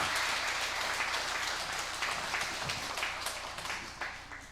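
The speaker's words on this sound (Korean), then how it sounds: "여러분, 하나님께 큰 영광의 박수 한번 드리겠습니다." A church congregation applauds during a Sunday worship service, a steady mid-level wash of clapping that holds for several seconds and slowly tapers toward the end.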